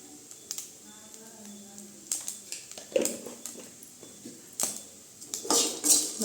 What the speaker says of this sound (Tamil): ரெண்டு நிமிஷம் மட்டும் கிண்டி விட்ட போதுங்க